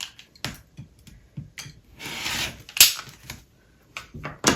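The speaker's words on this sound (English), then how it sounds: "So then I'm just going to trim all 4 sides." A rotary cutter trims the sides of a half square triangle quilt block on a cutting mat, giving sharp close clicks and taps with one longer rasping slide, all without talk.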